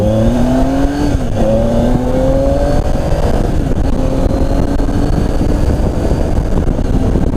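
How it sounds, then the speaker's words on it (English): A loud 2018 Triumph Tiger 800 XRx motorcycle exhaust drones steadily, its pitch rising and falling as the engine revs up and shifts, close by with no talking. "That exhaust note is amazing."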